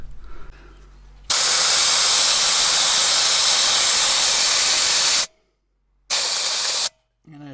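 Compressed air hisses loudly from a tyre valve as the tyre is deflated, a strong steady rush lasting several seconds, then a pause and a shorter second burst.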